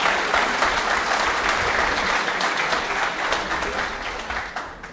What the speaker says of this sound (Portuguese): mais uma salva de palmas para o Instituto pela iniciativa